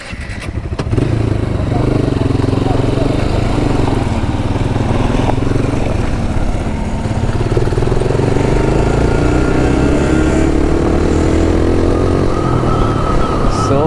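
A motorcycle engine runs loud and steady close by during an off-road ride, its rumble holding nearly constant with slight shifts in pitch as the bike keeps momentum in gear.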